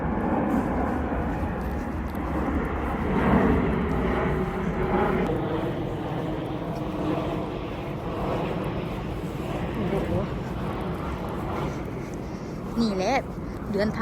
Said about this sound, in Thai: เครื่องบินนะจ๊ะ